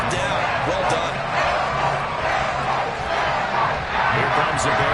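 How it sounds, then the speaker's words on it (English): A stadium crowd cheers and roars continuously in a Madden football video game, loud and steady throughout, with no clear pauses. "How about some applause for the defense there?"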